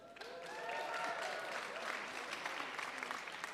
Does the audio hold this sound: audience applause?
yes